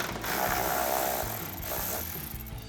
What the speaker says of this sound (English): So we'll take our 8mm socket to get that one out